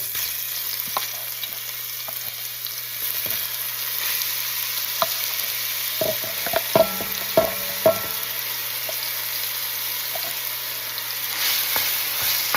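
A diced sofrito of carrot, onion and celery sizzles in oil over moderate heat, a steady hiss with scattered clinks and scrapes of stirring clustered in the middle, close and alone.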